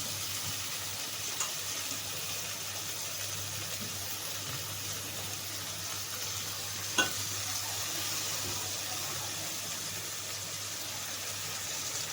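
Phodshi leafy greens dropped into a hot pan, giving a steady, soft, continuous sizzle with a couple of faint clicks from stirring, no talking.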